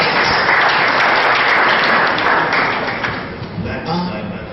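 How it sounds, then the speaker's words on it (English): An awards-ceremony audience claps steadily in a dense, loud burst of applause that slowly thins toward the end. "let's give them a round of applause"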